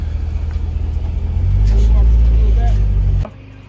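A car recently recovered from an abandoned alley runs with a close, steady low engine rumble that swells and thickens midway, then drops off abruptly near the end.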